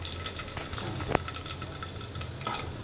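Whole garam masala and cumin, including cinnamon, star anise, cloves and cracked cardamom, sizzle in hot oil in a pan, with a steady close crackle, a few sharp stirring clinks and no talk.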